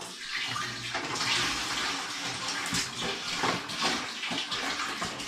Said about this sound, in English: I need to add quite a bit of water, or 8 litres in this instance,